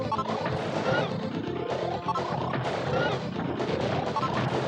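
Gunfire hits striking an enemy in the SNES Super Scope shooter Battle Clash, a dense, continuous run of loud crashing impacts and blasts with rising whooshing sweeps over roughly five seconds.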